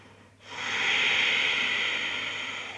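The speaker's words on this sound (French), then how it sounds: "une respiration juste par le nez, où tu fais circuler l'air un peu plus fort derrière la gorge" A steady, breathy ujjayi breath through the nose with the throat slightly constricted, starting after a brief quiet moment and holding evenly for a couple of seconds, close and soft.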